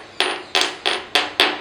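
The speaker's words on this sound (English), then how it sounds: "We'll beat this phone with this hammer and try and see what happens to the screen" A heavy block-shaped hammer strikes a phone screen five times at a steady, fairly quick rhythm. Each blow is a sharp, close, loud impact with a short decay, and nobody talks.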